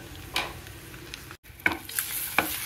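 Eggs frying in a pan on low heat, a soft constant sizzle with intermittent scraping stirs and light clinks, close by and without speech, broken by a brief gap midway.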